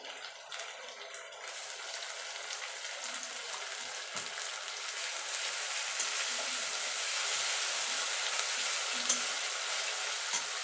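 Onions frying with ginger-garlic paste in a pan for a Bengali-style rajma curry, giving a steady, close sizzle with brief stirring scrapes throughout and no talking.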